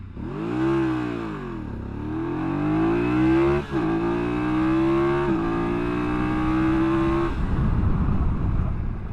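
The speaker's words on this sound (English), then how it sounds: "So we'll do 0 80 to 0, test acceleration and braking." A BMW F900GS Adventure motorcycle accelerates hard from a stop, its engine note climbing through several gear changes, then drops away into a rough, noisy panic stop.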